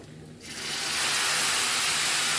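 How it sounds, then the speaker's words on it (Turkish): Hot water from a teapot is poured into a pan of fried sucuk and tomato paste, starting quietly and then swelling into a loud, sharp sizzling hiss of steam. "Şu çaydanlıktaki sıcak sudan."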